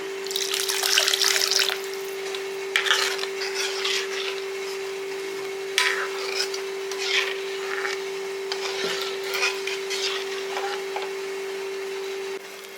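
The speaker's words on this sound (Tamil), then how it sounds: "இதில் இன்னும் கொஞ்சம் தண்ணி விட்டுக்கலாம்" Water running and splashing into a pan of Tamil tamarind curry (puli kuzhambu), a steady pour with some dripping, over a constant hum, with no talk.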